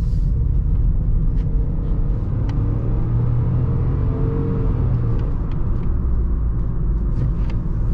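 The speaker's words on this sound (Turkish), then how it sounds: "Motor sesleri güzel." Steady, low engine rumble from inside a 2021 Renault Taliant with automatic transmission, droning continuously with faint clicks and rattles, no voices.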